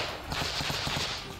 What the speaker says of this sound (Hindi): कुछ जवान तो जंगल के बीच दुश्मन की तलाश कर उस पर गोलियां बरसाते नजर आए।